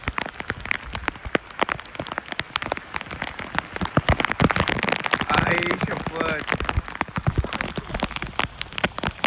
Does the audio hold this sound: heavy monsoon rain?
yes